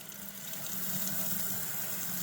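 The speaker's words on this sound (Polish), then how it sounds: "jest wystarczająco duże ciśnienie wody." Hot water runs strongly from a tap fed by a tankless flow-through water heater, a steady faint hissing gush without pauses.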